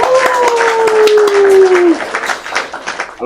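An audience claps at a custom motorcycle and music event in Bogor, with steady applause running under a whistle-like tone and voices through the clip.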